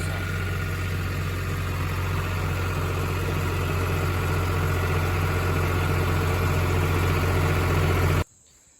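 A farm tractor idles with a steady low, even engine hum and a constant throb, running close and unchanged until it cuts off abruptly near the end.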